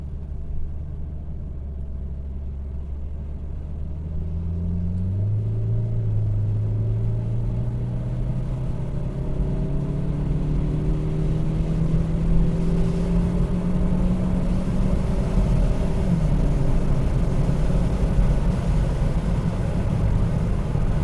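Tuned Saab 9-5 Aero with a Stage 1 tune and 344,000 km on it, its engine rumbling steadily as it pulls hard, the pitch rising continuously through a gear for about twenty seconds, heard from inside the car.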